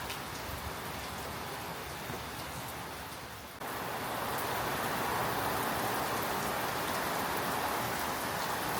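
Steady heavy rain pouring down during Tropical Cyclone Alfred, a dense hiss that thickens after a few seconds, with water gushing continuously from overflowing gutters.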